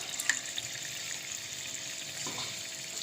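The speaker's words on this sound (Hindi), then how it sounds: "दही को हमने अच्छे तरीके से भून लिया है" Yogurt and masala frying in a pan for an aloo shimla mirch curry with eggs, giving a steady close sizzle with a faint watery hiss and a few light stirring clicks throughout.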